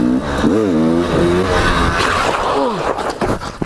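A motorcycle engine revs loudly and rises in pitch as the front wheel lifts into a wheelie, the throttle surging and dipping in short bursts close by.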